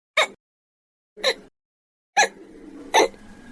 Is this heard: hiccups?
yes